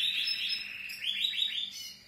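Bright, high bird song: a sustained warbling phrase followed by a quick series of rising chirps, close and clear over faint background noise.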